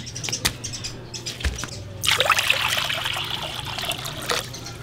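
Water from a freshly opened young coconut (buko) pours and trickles steadily outdoors, a bright continuous splashing stream that starts abruptly partway through and runs to the end, with faint bird chirps in the background.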